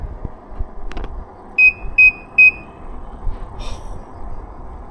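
Three short, loud electronic beeps from a designated-driver dispatch app alerting a new call, evenly spaced over a quiet in-car background with faint rumble and no talk.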